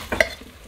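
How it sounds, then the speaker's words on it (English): A spoon gives zucchini and yellow squash in a crockpot one quick stir, a single short scrape and clink, close and brief, over a faint background. "Let's stir it up just a little bit."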